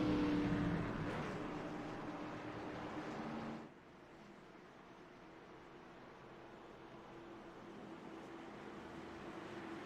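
Race cars at Charlotte Motor Speedway surge away on a restart, a loud broad engine roar that swells over the first few seconds, then drops to a steadier, more distant drone.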